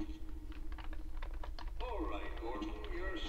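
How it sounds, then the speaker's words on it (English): Quick clicking taps on a computer keyboard, close and steady for a couple of seconds before a person starts talking over the rapid keystrokes. "Smashing my face on a keyboard."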